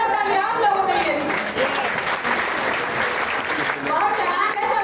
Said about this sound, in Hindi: एक जोरदार तालियां आप लोगों के लिए।